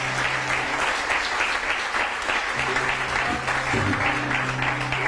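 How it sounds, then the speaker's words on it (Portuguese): A church congregation applauding during a Sunday worship service, a thick, steady wash of clapping that fills the room, with faint tonal sounds and a few voices mixed underneath. "Dá um aplauso a Jesus Cristo e a sua vida."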